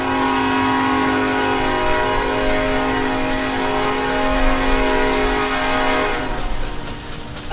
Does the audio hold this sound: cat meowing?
no